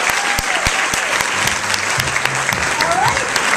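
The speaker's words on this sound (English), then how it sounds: "So one more round of applause for Pete." Audience applause after a story at a live storytelling event: dense, steady clapping from a sizable crowd, close and loud throughout, with a few faint voices mixed in.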